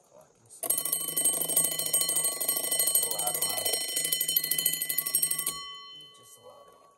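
A Westclox mechanical alarm clock rings loudly at its set time, a continuous rapid metallic bell clatter lasting about five seconds before stopping abruptly, with soft talk briefly after.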